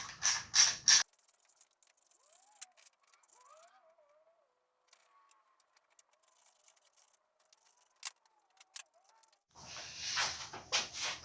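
A hand ratchet works the three bolts holding the voltage regulator on a C3 Corvette, giving sparse clicking and short metallic ticks between bursts of louder mechanical clatter at the start and end, close and without speech.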